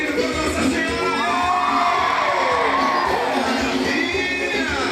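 A crowd shouts and cheers at a religious festival for Nossa Senhora, a loud, continuous mass of voices with whoops and rising yells.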